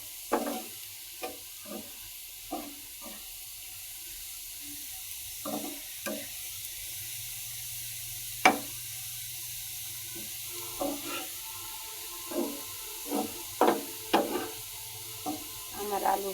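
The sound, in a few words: potatoes frying and being stirred in a pan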